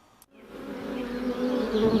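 A honeybee buzzes close by, with a steady droning hum that swells gradually louder over two seconds after a brief click at the start.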